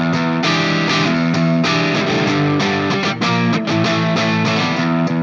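An Ibanez RG653DX electric guitar played through a classic rock distortion tone, loud and close, with sustained chords and riffing notes ringing out in a continuous thick, saturated stream and no voices.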